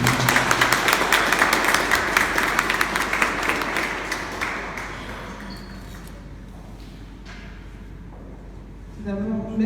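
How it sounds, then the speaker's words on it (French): Audience applause greeting the newly named president of a Paris organisation, a dense wash of clapping that is loudest at the start, thins and fades over several seconds, then a voice comes in near the end. "Madame Lydia Jean, que je vous demande d'applaudir s'il vous plaît."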